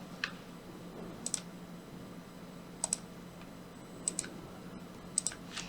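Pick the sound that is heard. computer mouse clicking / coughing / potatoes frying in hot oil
computer mouse clicking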